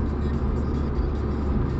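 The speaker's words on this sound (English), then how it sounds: "Darn traffic." Road traffic is heard from inside a car headed to a shop for a CV boot replacement, as a steady, dense low rumble of engines and tyres with no distinct passing events.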